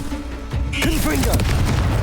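A Confringo fire spell bursts in Hogwarts Legacy, a sudden booming blast that swells and lingers. A voice speaks just before and over the start of the impact.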